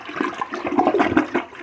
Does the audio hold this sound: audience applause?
no